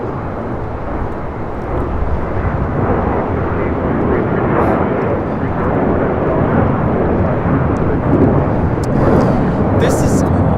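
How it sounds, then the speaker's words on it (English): A United Airlines Boeing 757-300 takes off from LAX bound for Chicago O'Hare, its engines a loud, sustained low roar that builds slightly and holds, with people talking over it. "This is United Airlines 1400 taking off to Chicago O'Hare on a 757-300"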